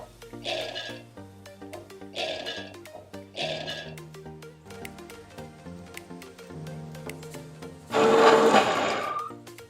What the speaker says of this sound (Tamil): இப்போ மிக்ஸி ஜார் எடுத்துகிட்டு இப்போ உளுத்தம்பருப்பு கிரைண்ட் பண்ணிக்கலாம்